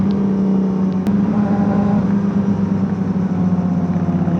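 Electric motorbike or e-bike riding along a road, giving a steady low whirring hum with continuous road and wind noise, one brief sharp click near the start, no talking.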